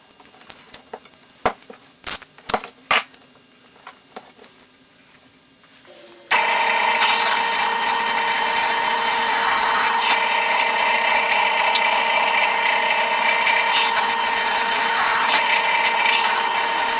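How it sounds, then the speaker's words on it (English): Drill press boring holes through a rubber mud flap for a Ford Escape, starting with a few scattered knocks and clicks before the machine kicks in with a loud, steady whirring drone that runs unbroken to the end. "take it on over to the drill press"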